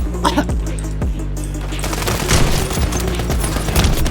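Rapid bursts of automatic gunfire from Call of Duty Warzone, a loud close stream of shots with booming low thumps, continuing steadily with no talk over it.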